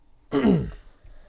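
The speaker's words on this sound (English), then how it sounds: "well, I had to clear my throat" A single throat clearing from a baseball radio play-by-play announcer, close and fairly loud, a brief rough burst that fades out within about half a second.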